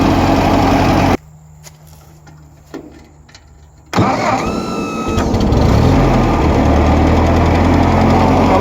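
An old, cheap refurbished tractor engine runs loud and close, cuts out for a few quiet seconds, then catches again with a rough, knocking idle that settles into a steady rumble while warming up.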